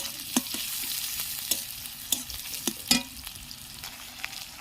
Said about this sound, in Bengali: এদিকে ওই তেলের মধ্যে লঙ্কা আর পেঁয়াজটা দিয়ে একটু ভালো করে ভেজে নেব।